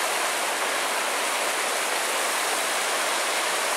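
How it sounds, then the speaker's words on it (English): A large river rushing near Devil's Kettle Falls on the Superior Hiking Trail, heard as a steady, loud broadband roar of flowing water with no break. "we just made it down to our first river. I think this river leads to Devil's Kettle Fall"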